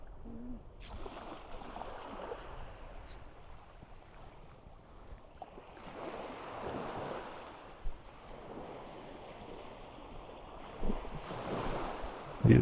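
Surf rolling onto a beach, broad steady wash of waves with wind noise across the microphone, swelling in several soft surges and alone without talk.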